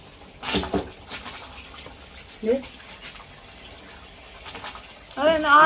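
Water runs into a storage tank outdoors at a house during wind and rain, a continuous rushing flow with a few louder surges and a voice speaking over it.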